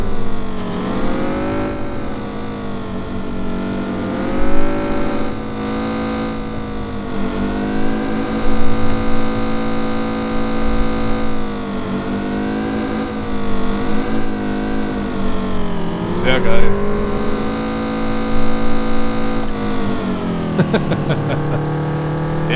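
A Mazda Familia in City Car Driving, its engine droning and revving up and down through long sustained pitches as the car drifts through corners, with tire squeal rising near the end.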